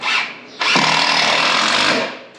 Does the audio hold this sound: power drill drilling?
yes